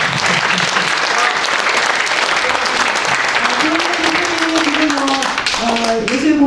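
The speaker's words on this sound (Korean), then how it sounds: "여러분께 다시 한번 뜨거운 박수를 한번 청해보면" A dense, steady wave of audience applause and hand clapping at a Korean forum lecture, loud and sustained throughout, with a voice speaking over it toward the end.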